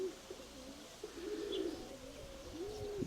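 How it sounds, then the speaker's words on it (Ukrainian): A pigeon coos several times in soft, low, rolling phrases, fairly close, with faint background ambience. "Подобається мені дуже цей голуб"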